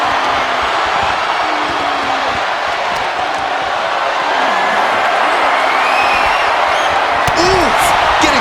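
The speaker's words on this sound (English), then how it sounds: "And over the top into a rough landing." A wrestler is thrown over the top rope and lands hard in the WWE 2K25 video game, giving a heavy thud over a loud, constant arena crowd roar while a commentator talks throughout.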